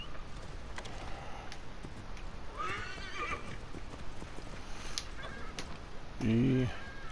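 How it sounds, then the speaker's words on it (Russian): A horse in Assassin's Creed Origins on PS4 Pro responds to a call, with hoofbeats, a whinny and a snort heard over steady background ambience, and someone talking now and then. "Сейчас давайте вызовем коня."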